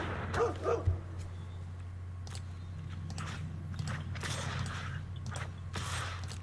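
A rescue dog card in MTG Arena gives a couple of quick, close barks near the start, followed by game interface clicks and whooshing effects over a steady low hum.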